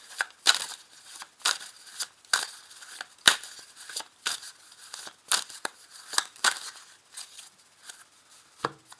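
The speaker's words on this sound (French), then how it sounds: "remuer les cartes" Tarot cards being shuffled by hand, a close, steady run of crisp flicks and rustling snaps repeating roughly every half second.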